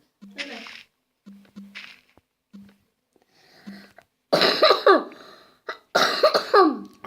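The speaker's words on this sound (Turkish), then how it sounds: "Arkadaşlar öksürük tuttu." A person coughs repeatedly, first in a few short, soft bursts, then in several harsher, louder coughing fits up close.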